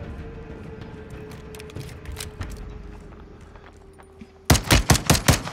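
Automatic gunfire in the Warzone 2 video game crackles in scattered shots at first, then erupts near the end in a loud, rapid burst of several sharp reports over a low background rumble.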